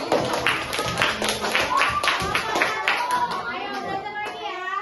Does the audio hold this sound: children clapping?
yes